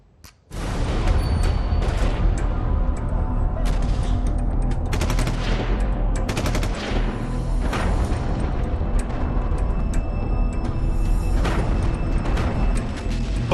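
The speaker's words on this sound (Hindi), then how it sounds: "बम धमाके, शहरों पर मिसाइलों से हमले।" Bursts of gunfire and booming bomb blasts from war footage of violence in Afghanistan, with rapid automatic fire and repeated heavy explosions rumbling continuously and loudly throughout, no speech.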